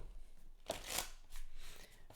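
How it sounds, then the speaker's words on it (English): A deck of tarot cards is shuffled close up, giving a brief riffling flutter and soft papery slaps in a quiet room. "let me just shuffle this real quick"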